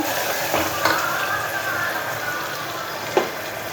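Green chillies sauté in a pan with a steady close sizzle, while a spatula scrapes and taps the pan a few times, one sharper knock near the end, and nobody speaks.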